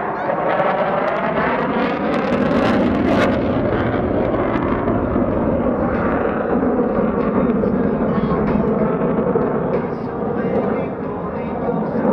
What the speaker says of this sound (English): Major Waters is now slowing the F-16 to prepare for a slow-speed, high-alpha pass.